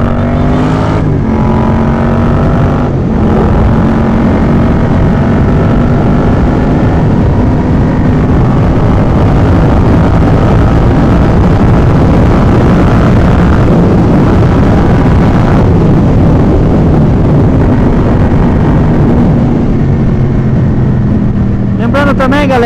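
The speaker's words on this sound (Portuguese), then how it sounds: "Muitos não gostam do som, do ronco da 2 cilindros" A two-cylinder Yamaha MT-07 motorcycle engine roars loudly and continuously while riding home from work, rising and falling in pitch, with someone talking over it.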